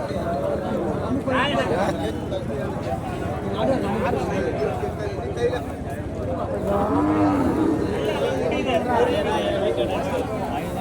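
Calves and cattle at a large native cattle market, with lowing and moos rising over a dense, constant crowd of chattering voices and people talking nearby.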